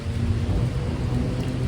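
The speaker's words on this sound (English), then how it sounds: "hoping the rain would let up a little bit" A steady downpour patters on an awning sheltering a parked car with its windows out at an autumn touge event, while low thunder rumbles continuously beneath the dense, close hiss of rain.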